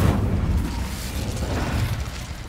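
An Incendio fire spell cast in Hogwarts Legacy erupts as a deep, rumbling whoosh of flame with a booming burst at the start, then a sustained roar of fire.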